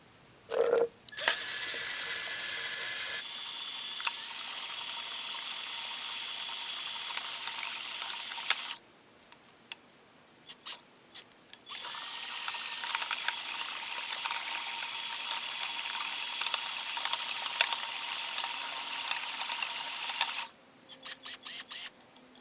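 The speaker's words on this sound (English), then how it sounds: "I'm using this cement mixer" A cement mixer churns raw natural clay into slip, producing a loud, steady wash of grinding and sloshing that runs for long stretches and is broken by short pauses and clicks, with no talk.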